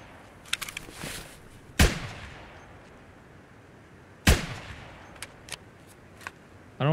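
Gunfire in Escape From Tarkov, two loud, sharp rifle shots a few seconds apart with echoing tails, plus fainter distant pops and clicks in a quiet outdoor woods setting.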